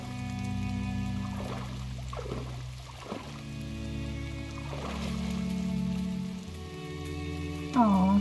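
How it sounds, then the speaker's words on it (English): Steady rain in the video game GRIS patters and hisses over a low droning background, with a swelling whoosh near the end. "Oh, it's raining."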